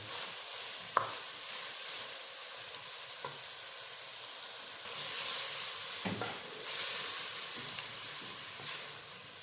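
Steady sizzling of onions frying in a pan, with occasional scraping and clinks of stirring, continuous and close.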